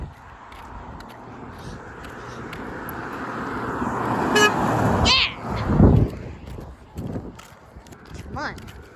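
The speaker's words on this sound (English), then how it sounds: "Yep, he honked." A car horn honks over steady roadside traffic noise, with a sharp tonal burst near the middle among passing vehicles and brief voices nearby.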